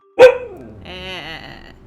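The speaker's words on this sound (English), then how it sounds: "She did bark right into the microphone." A single loud bark from an Australian Shepherd Blue Heeler mix right into the microphone, followed by a softer whining, whimpering tone that trails off.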